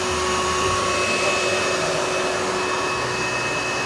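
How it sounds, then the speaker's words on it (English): An orbital sander cleaning up a part on a Jeep during an LS engine swap, a steady loud broadband whir with faint tonal hum, continuous and alone without talk. "We got our orbital sander out here, getting things cleaned up, getting things looking pretty nice and clean."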